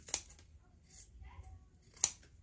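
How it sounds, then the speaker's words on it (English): Scissors snip away excess trim from a sequin fabric circle skirt, two crisp separate cuts at close range with quiet handling between them. "you want to just cut off the extra trim"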